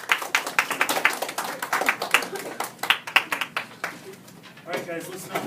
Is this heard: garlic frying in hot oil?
no